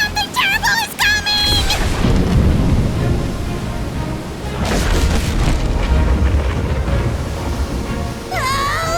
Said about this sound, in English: I think the storm is coming.